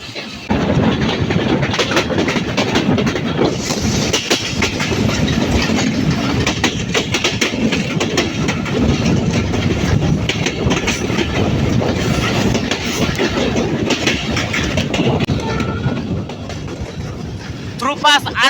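The Tungipara Express rolls toward Rajshahi with a loud, continuous rumble and rhythmic clickety-clack of wheels over rail joints, the roar steady throughout with brief metallic squeals, and a voice speaks over it.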